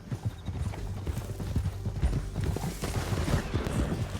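Horse hooves gallop at a steady clip-clop rhythm in Red Dead Redemption 2, riding down a canyon, with a dense busy mix around them and faint distant gunfire.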